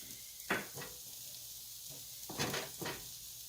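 Sweet potatoes with herbs sizzle in a skillet over medium heat, a soft steady crackle with a few louder hissing bursts as ingredients land in the pan, at close range.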